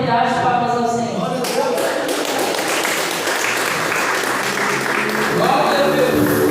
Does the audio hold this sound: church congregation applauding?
yes